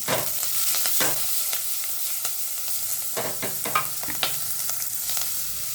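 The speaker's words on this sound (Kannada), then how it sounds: "ಸ್ವಲ್ಪ ಹೆಚ್ಚಿಟ್ಕೊಂಡಿರೋ ಒಂದು ಆನಿಯನ್ ಹಾಕೋತಾ ಇದ್ದೀನಿ." Dried red chilies, curry leaves and chopped onion fry in a pan, a bright crackling sizzle with repeated scrapes and clicks of stirring, close and fairly loud.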